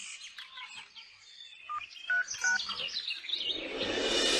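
Incoming-call phone ringtone of quick electronic chirping tones and beeps, fairly faint at first, ending in a rising hiss, with no talk.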